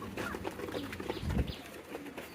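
Racing pigeons in a loft coo softly, giving low throaty calls with faint rustling in the background. The calls are quiet and close, with one fuller coo near the middle.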